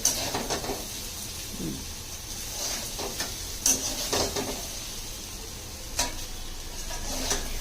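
Cooked rice going into a pan and stir-fried with chicken for mixed fried rice, giving scattered scrapes, taps and soft sizzling in irregular bursts, fairly quiet and close.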